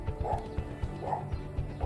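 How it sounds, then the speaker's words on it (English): A pet dog barks repeatedly in a garden, a steady series of short yaps and woofs spaced about every quarter second, moderately close with faint background sound. "Sorry about that barking in the background,"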